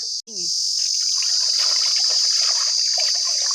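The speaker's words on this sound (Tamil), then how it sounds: "இந்த மீனை கழுவிக்கலாம் மாப்பிள்ள தண்ணியை ஊற்று" Water is poured over fish to wash it before boiling, a steady trickling and splashing stream that runs without a break after a brief opening sound.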